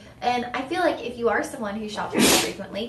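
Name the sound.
sneeze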